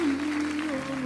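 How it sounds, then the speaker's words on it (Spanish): Audience applause during a live performance, steady and dense across the whole moment, with a sustained sung or hummed tone running underneath. "¡Aplaudan!"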